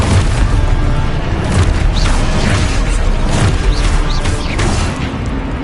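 Loud, dense blasts and rumbling booms from the Expulso explosion spell in Hogwarts Legacy, a sustained barrage of heavy impacts with swooping whooshes layered over a constant low roar.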